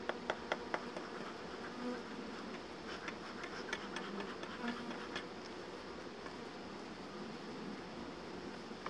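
A steady hum of many honeybees buzzing close around a hive, with occasional soft clicks and knocks; no voices.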